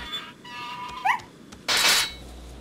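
Puppy whimpering in a video game: one short, high, rising whimper over quiet game ambience, followed by a loud burst of broadband noise.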